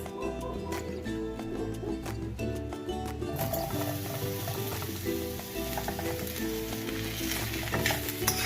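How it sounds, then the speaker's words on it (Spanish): Mushrooms sizzle and fry in a little oil in a pan, a steady crackling hiss that intensifies midway as they are stirred, with no talking over it. "en este sartén voy a poner poquito aceite para freír nuestros champiñones"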